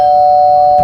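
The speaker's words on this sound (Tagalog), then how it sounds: "May nag-doorbell?" A single sustained electronic doorbell chime, loud and clear, ringing for under a second.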